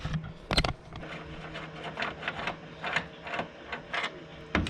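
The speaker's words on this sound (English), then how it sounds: "we have to remove that bolt to install it" A bolt being loosened and removed with a hand tool during DIY engine carbon cleaning: a quick run of close, rhythmic mechanical clicks and ratcheting bursts with brief pauses, no talking.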